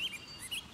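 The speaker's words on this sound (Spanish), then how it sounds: "Suena como un pájaro raro y colorido." A rare, colorful cartoon bird gives a couple of quick, high chirps that are faint and brief against a soft background hiss.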